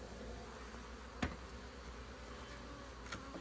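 Honey bees buzz during a beehive inspection, a faint, continuous hum with a couple of brief sharp clicks and no voices.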